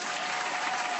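A canned applause sound effect on a podcast: a dense, steady burst of crowd clapping, loud and even for about a second, with no speech over it.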